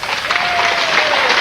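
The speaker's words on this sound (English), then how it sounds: "give a big round of applause to our band" Sustained, dense audience applause for the band at a live throwback-night show, filling the whole moment at steady loudness with a thin held tone running through it.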